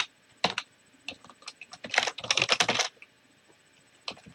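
Code is typed on a computer keyboard in quick, irregular bursts of close key clacks, with a dense flurry in the middle and scattered single taps before and after.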